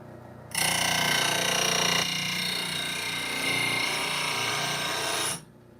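A wood lathe spins up to speed for freehand skew chisel turning, giving a loud, even whirring hum that holds steady for several seconds and then cuts off.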